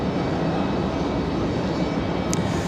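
A Frontier Airlines Airbus A320 arriving at Raleigh-Durham International from Cleveland, its engines producing a continuous, even roar at moderate loudness, alone without voices.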